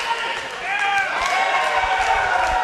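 Wrestling crowd in Corbin, Kentucky roaring and cheering steadily, a dense wash of voices and shouts with a few sharp claps, loud and continuous throughout.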